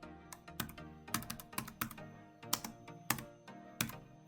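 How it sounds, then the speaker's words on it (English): Keys clack quietly on a computer keyboard in a quick, uneven run of close, crisp taps, typing into a browser search bar with no talking. "Click on the search bar and type in Otter AI."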